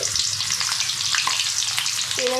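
Finely chopped onion fries in oil for chicken roast, a loud, continuous crackling sizzle close by, with a short squeak near the end and nobody speaking.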